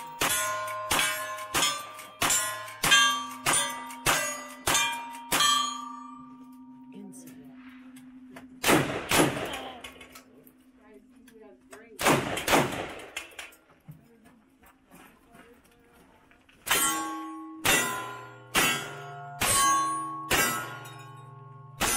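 Cowboy action shooting on an outdoor range with steel faller targets: sharp gunshots each followed by a ringing metallic clang, a rapid string of hits, a few slower blasts in the middle, then another fast run of shots and pings.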